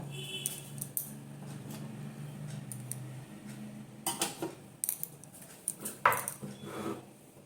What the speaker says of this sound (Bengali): এবারে আমি আদাটাকে কুচিয়ে নেবো লঙ্কাগুলোকে কুচিয়ে নেব